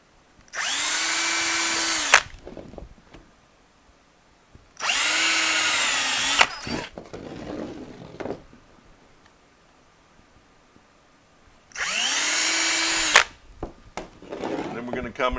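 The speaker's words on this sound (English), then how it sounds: "You're going to take the drill and drill a hole in the" A power drill bores holes into the corners of PVC fittings in three loud whirring bursts of about two seconds each, separated by pauses with quieter handling sounds.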